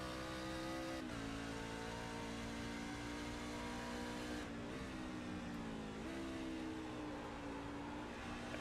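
A racing truck engine at Watkins Glen in the Hardline Rebels Truck Series video game, droning steadily under load with several quick pitch drops as it downshifts with matched revs, loud and continuous.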